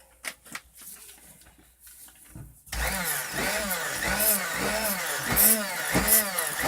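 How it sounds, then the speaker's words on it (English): A stick blender mixing hot syndet shampoo switches on after a few soft knocks and handling sounds, then runs loudly with a rhythmic, swooping motor whine as the blade moves through the liquid. "Take your stick blender to it quick."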